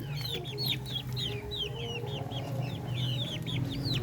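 Darag native chickens clucking in a backyard pen, repeated short high clucks and chirps in a steady uneven rhythm, close and clear over a low constant hum.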